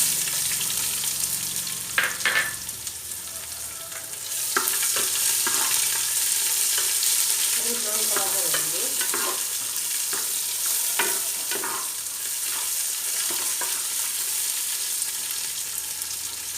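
Onion sizzling and frying in a pan for garlic fish masala, a steady loud hiss with occasional stirring clicks and scrapes throughout, with no voices.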